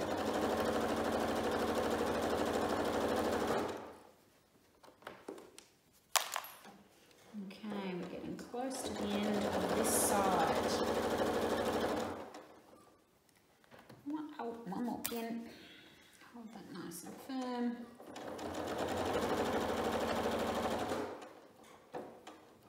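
A sewing machine runs in three sustained bursts while quilting fabric, with quieter gaps between them where a person speaks briefly over small handling sounds.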